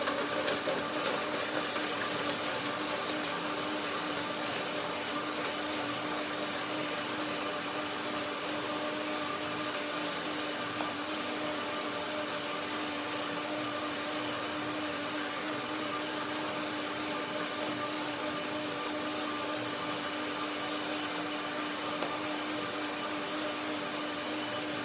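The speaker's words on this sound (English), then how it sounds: "Blender dance." A blender whirs continuously while blending cream of raspberries, mangoes, cinnamon, cashews and banana, a steady, loud motor drone that holds unchanged from start to finish.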